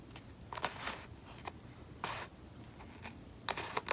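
Scissors cut down the middle of planner paper in a quiet room, giving a few faint, brief crisp snips and crackles separated by pauses.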